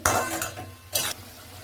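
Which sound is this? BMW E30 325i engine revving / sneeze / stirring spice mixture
stirring spice mixture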